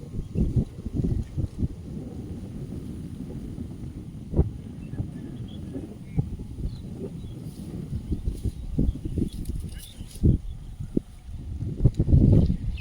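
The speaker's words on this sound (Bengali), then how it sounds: "যথেষ্ট জোরে হাওয়া বইছে।" Strong wind gusting outdoors across harvested rice fields where leftover straw is being burned, a steady close rumble of buffeting air on the microphone with louder bursts near the end.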